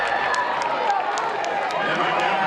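A crowd cheering at a women's ultimate frisbee semifinal at USA Ultimate Nationals, a steady loud roar of voices and applause with a few sharp claps poking through throughout.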